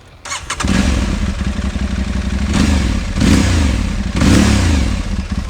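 A 2022 Aprilia Tuareg 660 adventure motorcycle engine starts up and runs loud and close, its throaty idle rising into three distinct revving bursts.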